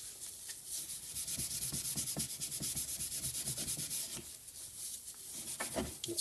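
The dovetail of a brake lathe cutting head is brushed clean with quick, close, repeated scrubbing strokes, a soft bristly rubbing that continues in an uneven rhythm throughout.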